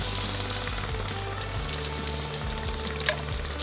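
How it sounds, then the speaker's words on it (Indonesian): Pikok bass fish fry in hot oil, a dense, loud continuous sizzle with crackling spatters and small pops throughout, close up and free of talk. "Goreng hingga ikan berubah warna menjadi coklat keemasan."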